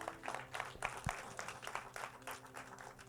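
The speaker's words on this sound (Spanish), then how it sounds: "Dale un aplauso a Jesús si lo crees." A church congregation claps together in a steady, fairly faint patter that is spread through the room and goes on throughout, with no talking over it.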